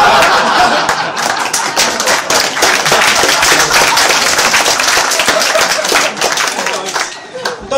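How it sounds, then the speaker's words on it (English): Dense, steady applause and clapping from a comedy-club audience at a stand-up gig at The Victoria, mixed with scattered chuckles, holding loud throughout before thinning slightly near the end. "Don't clap though, it's my own fault."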